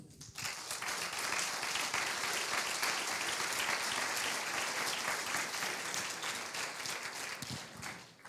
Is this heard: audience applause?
yes